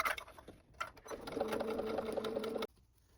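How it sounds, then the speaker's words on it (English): A home sewing machine with its extension table removed runs around the opening seam of a fabric clutch bag, a close, steady mechanical whir that starts after a few clicks and handling noises and stops abruptly. "Here I'm at the sewing machine sewing around that seam"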